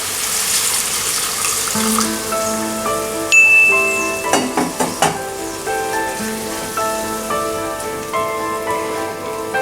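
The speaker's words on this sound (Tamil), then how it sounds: "இப்போது வேகிறதுக்காக 1 டம்ளர் அளவு தண்ணி ஊற்றிடலாம்" Water poured from a tumbler into a cooking pot of chicken gravy, a splashing, gurgling pour with a few sharp clinks against the vessel, heard alone in a home kitchen.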